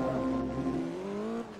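An HKS Evolution race car launches hard off the line at Mugello in Forza Motorsport 2, its engine note loud and close, rising steadily in pitch as it pulls through the gears with no talk over it.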